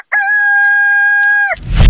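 A rooster crows loudly and close up, one sustained steady call that ends with a short break, followed by a rising burst of noise.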